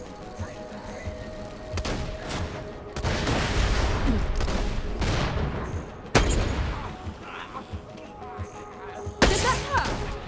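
Floating turret gunfire in Borderlands: The Pre-Sequel's Claptastic Voyage DLC: dense, continuous volleys of rapid shots rattle throughout, punctuated by several sharp, loud booming impacts amid busy game combat noise.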